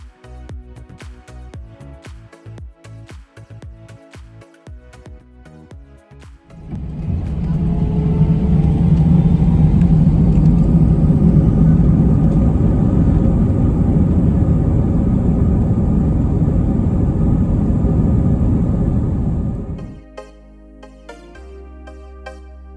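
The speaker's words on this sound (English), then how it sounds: "Maybe I was just anxious about my favorite part of flying, the takeoff." A United Airlines Airbus A319 jet roars through its takeoff roll from inside the cabin, with a sudden surge of loud, steady engine rumble that holds for about thirteen seconds before easing off, preceded by quieter cabin noise.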